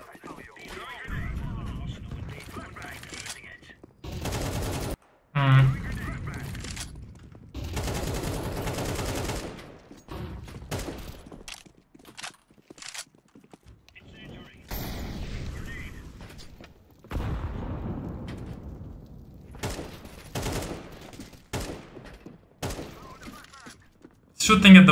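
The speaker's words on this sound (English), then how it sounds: "Shooting at the wall, I don't think is necessary." Video game gunfire aimed at a wall comes in intermittent bursts of rapid shots, separated by short silent gaps, with a voice talking between and over the volleys.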